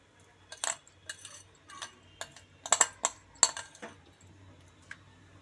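Spoon stirring rice in a pot for nolen gur payesh, quiet scattered metallic clinks and scrapes in an irregular rhythm, close by and soft against near silence.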